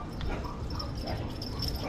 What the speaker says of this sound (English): Them dogs sound like they fighting each other.